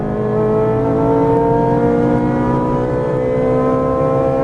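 A supercar on a Las Vegas race track accelerates hard, its engine note climbing steadily in a loud, close, continuous roar that carries through an upshift without letup.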